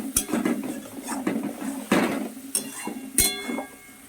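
A spatula scrapes and stirs ground cauliflower leaves with a dried red chilli in a cooking pan, giving repeated close clinks and scraping knocks at an uneven rhythm, with no talk.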